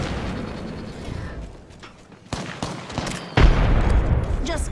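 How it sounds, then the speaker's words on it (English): Gunfire and a grenade blast ring out in an Apex Legends match, with sharp shots in the middle followed by a loud, low, booming explosion near the end amid continuous battle noise. "Heads up, grenade!"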